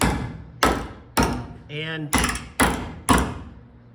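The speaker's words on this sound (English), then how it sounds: "I'm going to form it around into the hole that I cut out with my hammer" Hammer blows on a 1965 Mercury Comet Cyclone's sheet-metal roof patch, forming it into a cut-out hole: six sharp, loud metallic strikes at a steady pace, with a brief spoken word between them.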